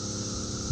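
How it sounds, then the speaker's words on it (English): Cicadas hum constantly at a steady, unbroken level, with a water pump running alongside in the background. "That constant hum is not just my pump, that's the cicadas."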